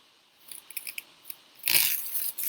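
A sticky stencil is peeled back, first with a few small crackling ticks, then a louder, tearing rasp of adhesive lifting, close by and alone.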